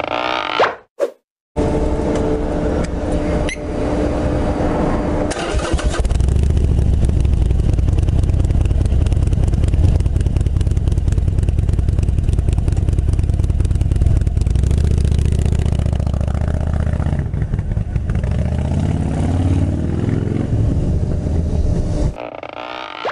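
Harley-Davidson Iron 883 motorcycle on a coastal road ride, its engine a steady loud low rumble sustained for about twenty seconds, with wind buffeting and no talk.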